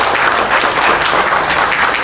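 An audience gives loud, continuous applause to welcome a singer at an event, a close, dense patter of many hands clapping without a break.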